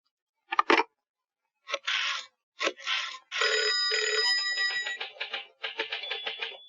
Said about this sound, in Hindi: एक फोन तिवाड़ी को हो जाए।